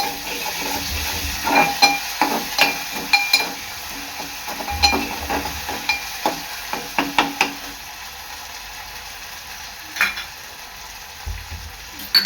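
Ginger garlic paste frying in a pan for a Maggi masala dish gives a close, steady sizzle, broken by repeated scraping and clinking of a spoon stirring against the pan.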